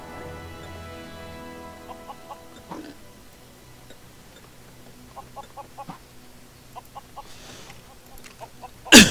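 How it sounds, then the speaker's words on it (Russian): A blocky chicken in the LEGO Worlds video game, in a pirate world, gives several short, quiet clucks in small clusters over a faint game hum, ending in a sudden loud burst. "Так, курица."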